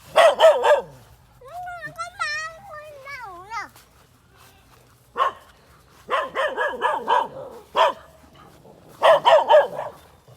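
A dog barks in several loud, close bursts of rapid yaps, separated by pauses and a drawn-out whining yelp.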